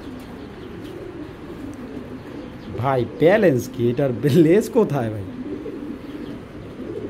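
Racing pigeons cooing softly in a low, steady murmur beneath a man's close, animated talking, which dominates the middle of the stretch.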